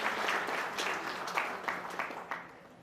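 An audience at an education seminar applauds, with dense clapping that rises in rhythmic swells and gradually fades toward the end, moderately close.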